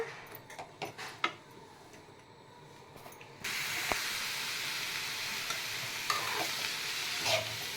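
Boiled cabbage with chana dal and turmeric is tipped into a hot pan and stirred, quiet clinks first, then a sudden loud sizzle that continues steadily with stirring scrapes nearby.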